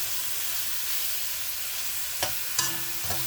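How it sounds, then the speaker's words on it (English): Diced chicken breast fries in a pot with a steady, soft sizzling hiss, and a few light clicks and taps of stirring sound near the end. "Now let this fry up for like 3 minutes."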